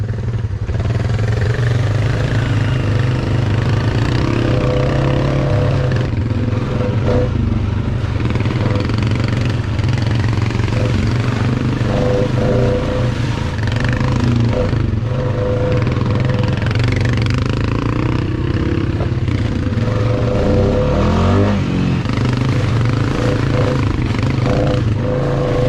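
Four-wheeler ATV engines rumble steadily through a night ride, a loud continuous mid-pitched drone with occasional clatter and no clear talk.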